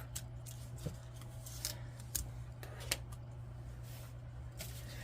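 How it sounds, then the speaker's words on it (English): Scissors snip at a tag on a wreath with several quiet, crisp cuts spaced irregularly over a low, steady background hum. "I need to cut this tag off"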